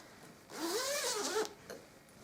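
A zipper pulled along the back seam of a fabric chair seat cover, a single smooth zip of about one second, close and fairly quiet, with a faint tug at the end.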